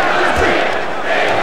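Arena crowd noise in the fighting game UFC Undisputed 3, a steady dense roar of spectators swelling in support of a fighter on the ground, loud and continuous with commentary voices mixed in.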